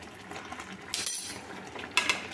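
A spoon stirs ghee into cooking daliya in a pot, giving two bright metallic clinks and a soft scraping between them, close and alone.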